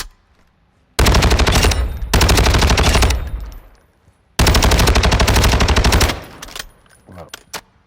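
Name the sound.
FTAC Ripper automatic gunfire in a video game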